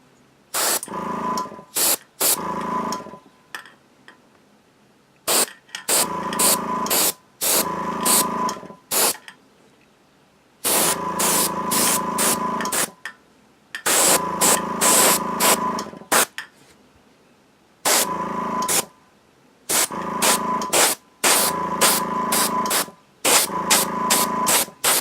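An airbrush sprays black primer at about 40 psi onto a miniature model in repeated hissing bursts of one to three seconds, separated by short silent pauses.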